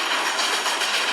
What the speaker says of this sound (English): Steam train rolling in.